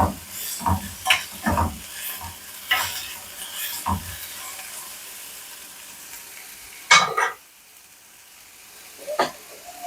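Ivy gourd sizzles as it fries in a pan with salt and turmeric, broken by close, irregular scrapes and clatters of stirring, with a brief louder clank near the end and no talk.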